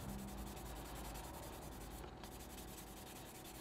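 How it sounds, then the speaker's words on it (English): A fine sanding pad polishes a 1/48 scale plastic model of a Junkers Ju 88 A-4. The close, quiet, continuous rubbing has a gritty texture and quick, regular back-and-forth strokes. "Just polishing it, starting to polish it up."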